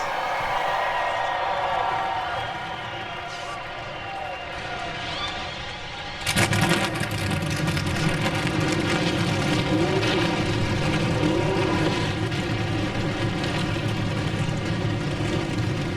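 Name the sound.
NASCAR stock car engines starting at Michigan International Speedway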